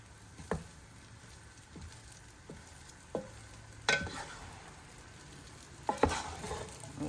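A spoon mixing tomato paste through cooked rice in a pan for tomato rice, with soft scraping and a few sharp clinks at irregular intervals, quiet and close.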